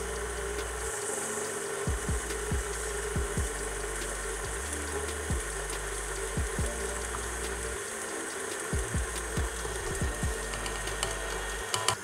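A stand mixer on low speed whips eggs and sugar with a steady motor hum and soft rhythmic pulses of the beater, with no talking.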